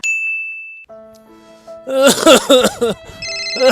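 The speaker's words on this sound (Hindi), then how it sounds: "अरे राम हो देखो फोन आई" A mobile phone rings nearby with a bright electronic tone: one sustained high beep, then a loud, busy melodic ringtone phrase that plays on its own.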